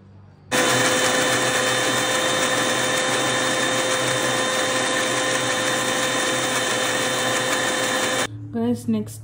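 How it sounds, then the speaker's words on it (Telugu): Mixer grinder blending a coffee mixture with water: a loud, steady high-pitched motor whine that starts abruptly, runs for about eight seconds and cuts off, followed by a brief voice. "నెక్స్ట్ మనం కొంచెం వాటర్ వేసి దీన్ని మిక్సీ పట్టేద్దాం"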